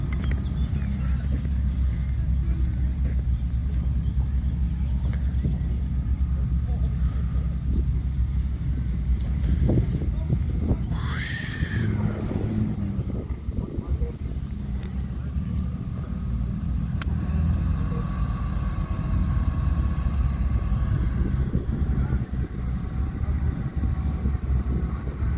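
Rally cars, including a Peugeot, leaving a rally meet, a continuous loud rumble of engines with one car revving and passing close near the middle before the steady drone resumes.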